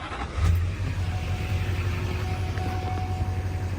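A video game engine turns over and settles into a low, steady rumbling drone with faint mechanical whine above it, fairly quiet and continuous.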